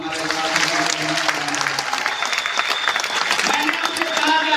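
Audience members at a DXN motivational meeting clap in a strong, steady round of applause, with voices mixed in over the clapping.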